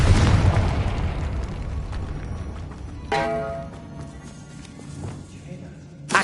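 Confringo spell blast in Hogwarts Legacy, a loud booming burst at the start that fades into rumbling debris, with a second sharp crack near the three-second mark over a busy game soundscape.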